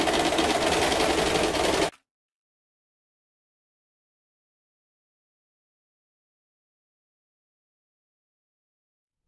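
Sewing machine stitching elastic onto bra fabric with a lace detail: a short close buzzing run of stitches for about two seconds, then it stops and silence follows.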